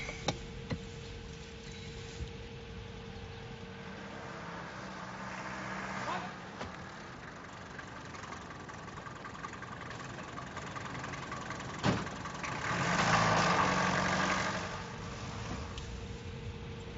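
An underpowered car engine chugs along at a low steady drone with faint ticking, a mid-distance rumble that swells briefly near the end, heard without clear talk over it.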